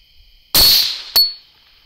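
A rifle shot fired at a predator during a night hunt with an ATN ThOR 5 XD thermal scope: one loud, sharp crack with a ringing tail, then a second short, sharp bang, all against a quiet, steady background hiss.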